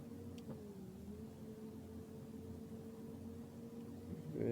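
A bus in the video game Otobüs Simulator Ultimate accelerates with a steady, faint engine drone whose pitch rises slightly as it picks up speed, heard alone with no talking.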